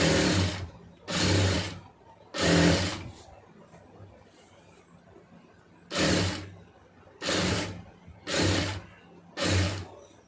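Sewing machine stitching piping trim, running in seven short bursts of whirring stitches, each about half a second to a second long, separated by brief pauses, close and fairly loud.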